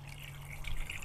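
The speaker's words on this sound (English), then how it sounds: "I pour it in just as fast and just as much water" Water is poured onto a watershed floodplain model, a soft, steady trickle and splash that swells slightly toward the end, close and alone.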